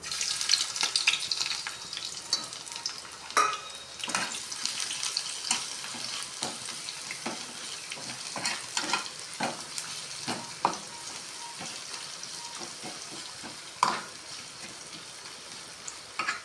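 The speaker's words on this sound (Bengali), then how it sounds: "পেঁয়াজগুলো একটু লাল লাল করে ভেজে নেব" Chopped onions frying in oil in a pan with dried chillies and bay leaf for a rohu fish dish: a continuous soft sizzle with intermittent spatula scrapes and clicks, close but fairly quiet, no voices.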